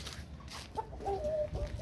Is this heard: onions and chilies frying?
no